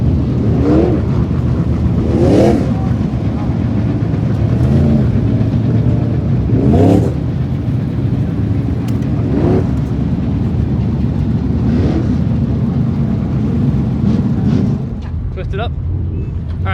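A crew rides in a truck heading down the road toward Stockton, with a steady engine drone and road rumble running throughout beneath ongoing conversation inside the cab.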